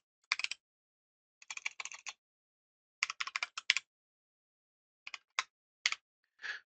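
Keys clack on a computer keyboard while code is typed, in short irregular bursts of quick taps separated by brief pauses, close and moderately quiet with no talking.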